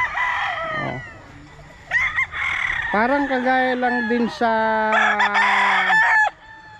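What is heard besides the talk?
roosters crowing at a gamefowl farm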